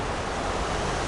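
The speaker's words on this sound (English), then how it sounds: "It ain't nothing but a big highway," A big highway heard from nearby woods gives a steady, dense roar of traffic with no breaks, loud and unchanging, with no voices.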